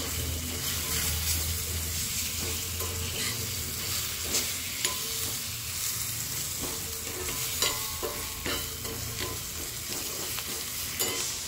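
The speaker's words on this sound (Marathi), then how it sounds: "आणि हे छान असं परतून घ्यायचं आहे, मिक्स करायचं आहे।" Red chutney masala with red chili powder is sautéed and stirred in a pan. A constant close sizzle runs under repeated scraping strokes of a spatula, with a few sharper clinks and no speech.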